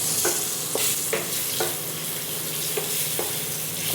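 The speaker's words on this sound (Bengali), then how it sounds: "আলুটা একটু ভেজে নিই প্রথমে।" Potatoes frying in hot oil, a bright, dense sizzle with repeated stirring scrapes every half second or so, close and loud with no talking.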